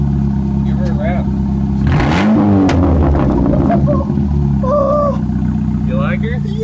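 A Ford Focus with an H.A.E.G stage two exhaust idles with a deep, throaty rumble, then revs sharply once before settling back to a steady burble, close by, as people talk over it.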